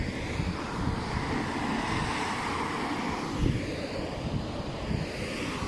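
The Curug Sewu waterfall in Patean, Central Java, makes a steady, even rushing roar of falling water, heard from some distance.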